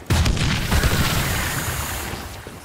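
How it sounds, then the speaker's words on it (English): A grenade blast in the game Killing Floor 2 erupts as a loud, close boom with a heavy low rumble that decays over about two seconds, with no talking. "Watch out! Grenade!"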